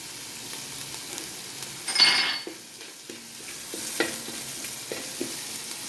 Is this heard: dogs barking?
no